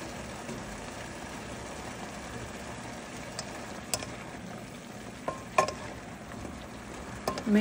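Chopsuey vegetables, including cauliflower, are stirred and fried in a pan. A faint, steady sizzle runs throughout, broken by occasional clinks and scrapes of utensil against pan.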